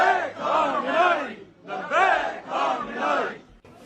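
A crowd of thousands of Shia protesters shouting at the US embassy in Islamabad, loud rhythmic chanting in repeated bursts with short pauses between, close and dense.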